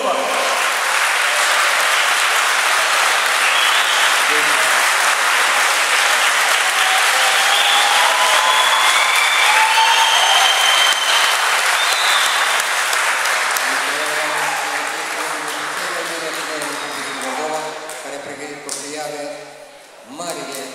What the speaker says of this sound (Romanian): noi cu toții trebuie să-i aplaudăm pe Mihail Ivanovich Rusu